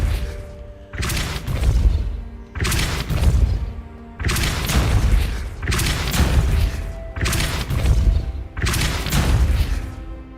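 Depulso force spell blasts in Hogwarts Legacy, six loud booming bursts in a regular rhythm, each a heavy thumping crash with a short rumbling tail and brief quiet gaps between.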